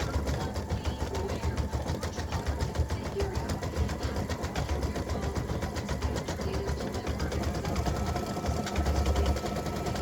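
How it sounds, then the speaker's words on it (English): An embroidery machine satin stitching around a ribbon tail for a freestanding lace earring, a continuous fast mechanical hum and rapid needle rattle running steadily throughout at moderate level. "it does the satin stitching around the piece of the ribbon, of the tail of the ribbon"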